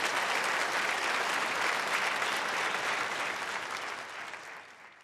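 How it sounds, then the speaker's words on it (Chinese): A church congregation applauds a married couple's duet, steady crowd clapping that holds for several seconds and then fades out toward the end. "可唔可以用掌声多谢佢哋啊？"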